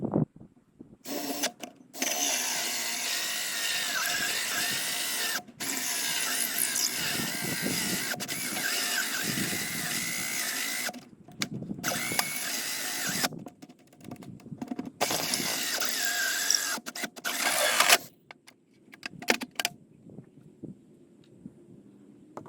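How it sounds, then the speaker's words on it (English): A hole saw on a drill bores through the galvanized steel wall of a hugelkultur raised garden bed, a loud sustained metallic grinding and whirring in several long bursts separated by brief pauses, with no talking. "I need to use a hole saw because I will be going through that tin, or the galvanized steel"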